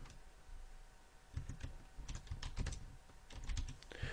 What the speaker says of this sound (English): You can now type in your next line of text in the cell.